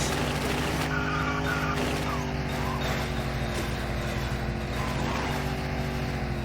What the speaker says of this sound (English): we can just do front-wheel drive burnouts because I've got the handbrake on